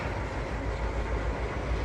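A train rolling along track in the railway simulator Trainz 2022, a steady dense rumble with broad low-end roar that holds at even loudness throughout, close and continuous with no voices.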